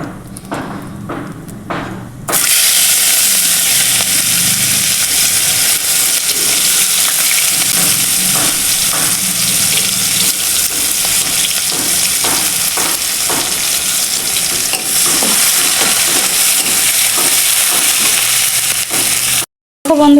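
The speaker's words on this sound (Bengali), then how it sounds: "তারপরে কেটে রাখা পেঁয়াজ কুচি দিয়ে দেব।" Chopped onion hits hot oil with tempered cumin seeds in a pan for an egg curry with raw plantain, bursting into a loud, steady sizzle after a quiet start, with occasional spatula knocks and stirring thuds throughout.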